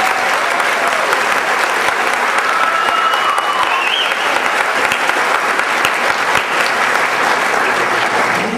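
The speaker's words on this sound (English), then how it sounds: "I think Mrs. Vesco needs a big round of" An audience at a graduation ceremony applauds loudly and continuously, a dense, steady wash of many hands clapping with a brief whistle-like tone faintly audible partway through.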